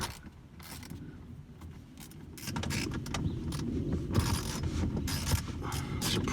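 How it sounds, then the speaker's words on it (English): A 14 mm socket wrench turns a long bolt out of the folding armrest of a 2006-2012 Honda CR-V, giving close, steady mechanical ratcheting and clicking that grows louder partway through, with no talk. "we're gonna go ahead and put our 14 millimeter socket wrench right in there and get it unscrewed"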